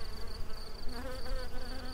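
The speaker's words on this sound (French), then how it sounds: "On a les abeilles dans les tilleuls là qu'on entend." Bees buzz among linden trees around a farm in the Baronnies mountains, a continuous droning hum from many insects close by, steady with slight swells and no voices.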